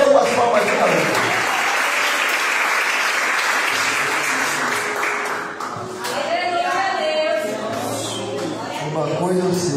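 A church congregation applauding in praise during an evangelical service, a loud sustained roar of clapping that thins after a few seconds as a voice rises over the fading claps.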